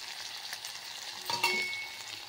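Pavte field beans frying in hot oil, a steady close sizzle and crackle throughout with a brief louder burst of spitting partway through, no talking.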